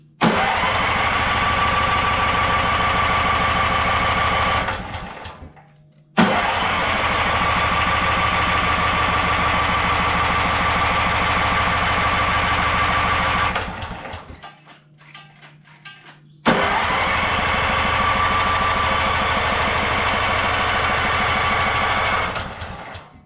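A Manco Dingo go-kart engine with a gummed-up carburetor cranking repeatedly without firing, a loud steady mechanical whir in three long attempts separated by brief pauses, close up and with no voices.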